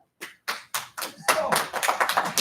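Audience at a city council meeting starts to applaud, a few scattered separate claps first that quickly swell into a brief burst of close, dense clapping from a small crowd.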